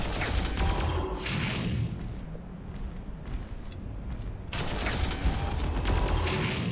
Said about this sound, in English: That's artillery, that's not good.